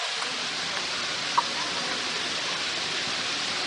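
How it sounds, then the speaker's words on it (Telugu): Water from a tall indoor waterfall in Dubai Mall pours down from several floors above, making a soft, steady rushing wash that sounds fairly distant, with one small click partway through. "వాటర్ఫాల్ పెట్టాడు, పై నుంచి పడుతున్నాయి."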